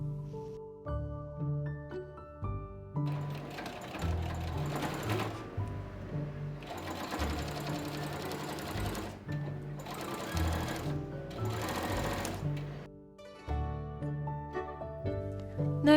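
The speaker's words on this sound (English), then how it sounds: "Then wrap it around and sew the other side to the opposite edge of the back panel." Sewing machine stitching the seams of a quilted round makeup bag, running in several bursts with a rapid mechanical whir, separated by short pauses, close and clear with no voices.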